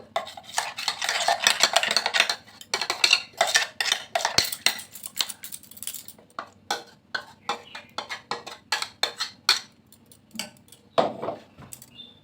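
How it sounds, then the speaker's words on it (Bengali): A bowl is rinsed clean with a little water while making poa pitha, giving a dense run of wet scraping and clinking against the bowl that breaks into scattered sharp taps and splashes, close and fairly loud, with no talking. "একটু সামান্য জল দিয়ে গোলটা ধুয়ে নিচ্ছি পরিষ্কার করে"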